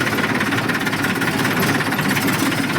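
A tractor engine runs with a steady, rough, knocking diesel throb, close and loud, unbroken and with no voices.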